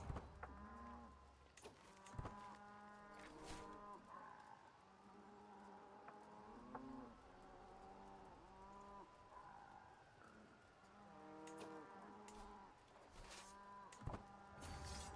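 Cows moo repeatedly in Crusader Kings III, drawn-out lowing calls overlapping one another almost continuously, with a few sharp clicks and a steady background of game ambience.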